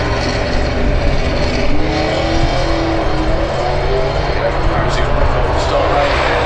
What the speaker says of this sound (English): Now this is another one of those cars that really has an awful lot of grunt, especially up towards the finish line.